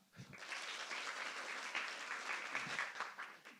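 Audience clapping at a tabla and classical music concert, a steady wash of applause that starts abruptly, holds evenly for about three seconds and then cuts off.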